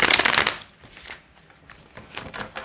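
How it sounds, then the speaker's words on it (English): Tarot cards being shuffled by hand, a dense burst of riffling and flicking at the start, then softer, sparser card slides and taps continuing close up. "We are gonna shuffle again though"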